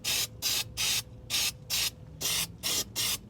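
Galvanizing compound sprayed onto a boat trailer axle spindle in eight short, even bursts of hiss, close and fairly quiet, with brief gaps between them.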